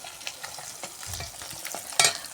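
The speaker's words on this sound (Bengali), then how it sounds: "এই দেখো আমার মাছ ভাজা হচ্ছে।" Fish frying in a pan, a soft crackling sizzle broken by quick stirring scrapes and a sharper spatter near the end, fairly close and without talk.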